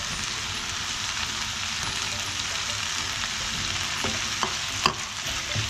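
Chicken shawarma mixture with lettuce being stirred in a hot pan, a continuous dense sizzle with a few clearer utensil scrapes near the end.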